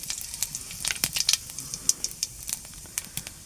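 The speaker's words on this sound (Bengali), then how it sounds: "তেলটা গরম হয়ে গেছে, এখন জিরে দেব পুরানো।" Cumin seeds crackle and sizzle in hot oil in a pan while aubergine is being fried for a Bengali dish, giving a continuous fry hiss dotted with many sharp little pops throughout.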